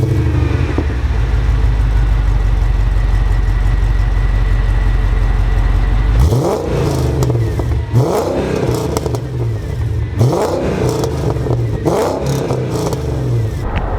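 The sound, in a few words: Mercedes E55 AMG exhaust sound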